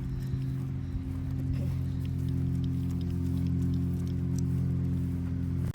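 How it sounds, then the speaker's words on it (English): Steady rain patters continuously on a hard surface nearby at a campsite, with a low constant hum underneath and scattered drips throughout. "as you can see, it's raining"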